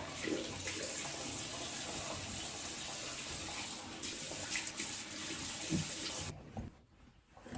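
Water runs steadily from a tap into a sink during an evening skincare rinse, a continuous close splashing gush that stops abruptly near the end, no talking.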